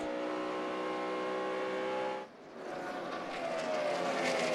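A NASCAR stock car's engine howling at high revs on the track at the 2009 Kobalt Tools 500, loud and close, with a brief dip in the middle as it shifts before the roar climbs again.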